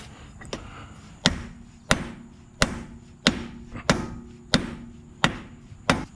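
Repeated sharp metallic hammer blows at a steady pace, pounding a ball joint into place on a Super Duty truck, about eight strikes ringing briefly, close by with no voices.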